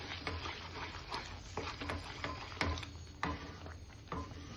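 Cashews fry in oil in a pan over a very low gas flame, giving a faint, steady sizzle with scattered soft crackles and pops and no voices.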